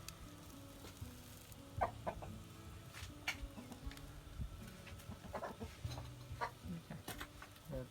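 Chickens clucking intermittently at a distance near a bamboo coop among scattered farmyard noises, fairly quiet, with no talking.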